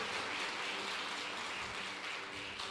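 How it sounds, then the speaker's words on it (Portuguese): Church congregation applauding in a dense, steady wash of clapping that fills the room at a moderate level, with no voices over it. "Você pode aplaudir o Senhor Jesus pela vida deste homem."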